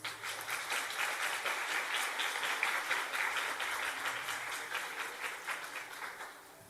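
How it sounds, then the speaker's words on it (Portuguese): A church congregation clapping for Jesus during a service, steady rhythmic applause from many people filling the room, swelling then slowly fading out. "Uma salva de palmas para Jesus."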